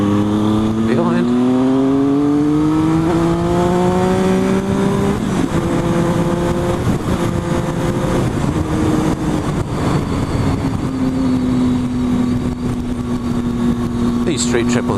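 Triumph Street Triple motorcycle engine pulling steadily while riding, a close, continuous three-cylinder drone that rises in pitch and settles through gear changes, with heavy wind noise throughout.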